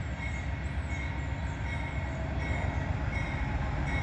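A loaded Norfolk Southern coal drag passes with an EMD SD70ACe as the trailing locomotive. A steady, heavy rumble of rolling cars and wheels continues the whole time, close and loud, with no talking.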